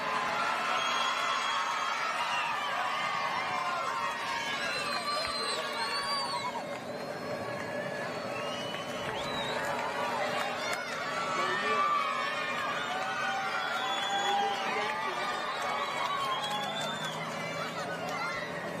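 A large, tumultuous crowd of spectators cheers riders at a men's elite bike race, making a steady, dense roar of many shouting voices that swells and surges with no break for the whole stretch.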